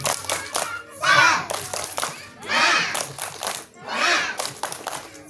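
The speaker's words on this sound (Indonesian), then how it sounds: "Sebelum kita belajar bersama, tepuk semangat dulu ya." Children in a classroom session with the fire brigade perform a rhythmic encouragement clap chant, three loud bursts of group chanting and clapping separated by brief gaps, with a voice leading between them.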